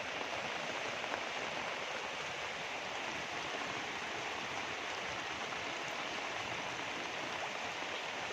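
Steady heavy rain hisses continuously at Ban Sawai Chik, a dense, even wash of falling water with no breaks.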